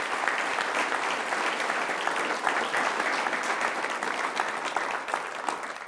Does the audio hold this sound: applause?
yes